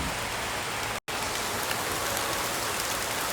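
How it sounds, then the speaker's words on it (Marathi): Steady, dense rain pattering on a surface in a Konkan village in May, a continuous wash of drops with one brief moment of silence near the start. "मे महिन्यात पाऊस पडतो आहे गावी"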